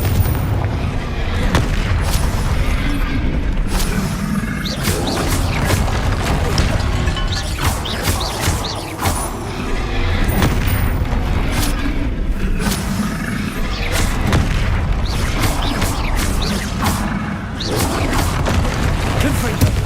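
Repeated Confringo fire-blast spell explosions in Hogwarts Legacy, loud booming bursts recurring throughout amid dense combat noise and rumble, with voices underneath.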